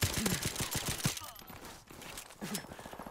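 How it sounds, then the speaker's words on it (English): Rapid-fire sniper gunfire in the video game Modern Warfare Remastered, a fast burst of sharp repeated shots with a short gap before more firing, with brief voice sounds mixed in. "Rapid fire snipers."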